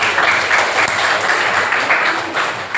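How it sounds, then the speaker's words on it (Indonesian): A classroom of students applauds a classmate, a dense burst of many hands clapping close by with a few voices mixed in. "Oke, tepuk tangan dulu untuk Dimas"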